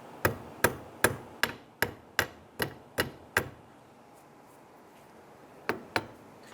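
A hammer strikes a washer on a Honda Element power steering rack, nine sharp metallic taps in steady rhythm, then a pause and two more close, loud blows.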